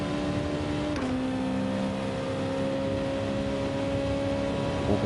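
A McLaren GT3 race car in Gran Turismo 7 holds a steady, loud engine drone, its pitch stepping down once early as it shifts and then running evenly, with no voices over it.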